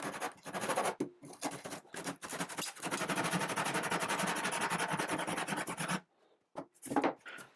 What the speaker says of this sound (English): I completed the cut with my tenon saw.